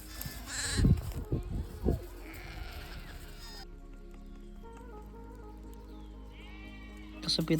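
A herd of sheep and goats in rural Maharashtra comes back in the evening, bleating close by in several separate cries. Quieter animal calls and faint voices follow in the background.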